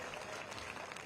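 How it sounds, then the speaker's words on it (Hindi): An audience claps at a Chhattisgarh political gathering, producing a faint, dense patter of applause that stays steady and continuous throughout the short stretch. "सभी से पुनः एक बार जोरदार ताली बजाने के सादर आमंत्रित करते हैं।"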